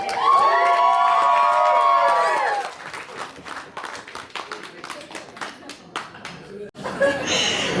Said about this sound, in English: Please put your hands together, make some noise, give them a round of applause for the bride's best friends here today